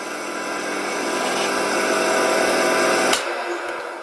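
An old wooden wood lathe runs at its lowest speed of about 1000 RPM, a steady mechanical whir with a hum that holds level for about three seconds, then cuts off sharply with a click as the motor winds down.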